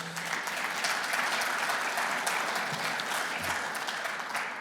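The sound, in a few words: audience applause for guest speakers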